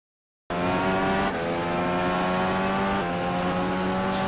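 IndyCar race car engine from a racing video game lap at Mid-Ohio, a loud steady high-revving drone with strong harmonic lines, shifting pitch slightly around gear changes, close and continuous without talk.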